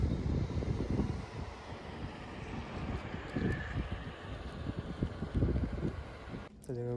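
Steady wind buffets and rumbles against the microphone beside a pond in Ranchi, gusting in rough, uneven surges throughout, with a voice speaking briefly near the end.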